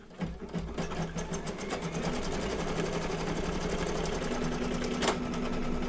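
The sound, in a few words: embroidery machine stitching down a mug rug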